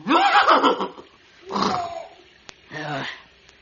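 A horse neighs and whinnies in a few short, shrill bursts separated by pauses, fairly close, with a faint click in between.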